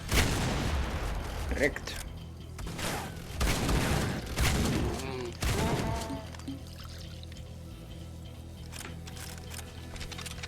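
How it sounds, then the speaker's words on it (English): A shotgun in the video game Supplice fires several loud, sharp blasts in uneven succession, each with a short booming tail, then the action quiets into low background rumble; a voice says a single word. "Shotgun actually isn't too bad against them with the old fire"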